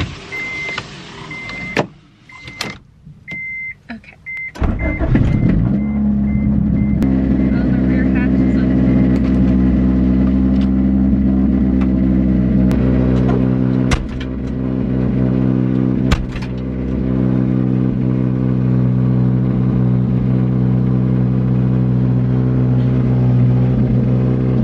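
The Wagovan's engine cranks over and settles into a steady, loud idle close by, then keeps running as it pulls away, with brief noises and a voice heard over the drone.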